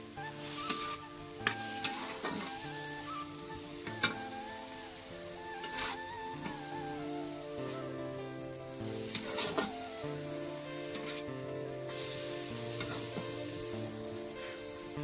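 Vegetables cook in a home kitchen pan with a soft, steady sizzle, while sharp utensil clinks and stirring taps stand out in front and an electronic hum or music tone runs underneath.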